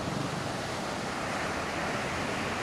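Strong surf breaks on Liwliwa Beach in San Felipe, Zambales, with water rushing back down the sand in a steady, loud, close roar and some wind noise, with no voices.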